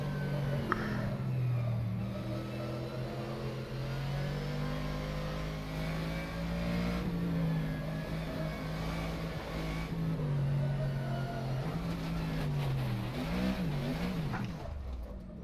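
Simulated Mercedes GT3 race car in rFactor 2 lapping Suzuka, a steady loud engine roar holding high revs with shifts and dips into braking, revving back up near the end.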